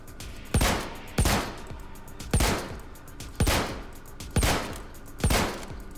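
An 8mm semi-automatic sniper rifle fires in Star Citizen: six loud, sharp shots spaced roughly evenly about a second apart, each with a short decaying tail, no talking.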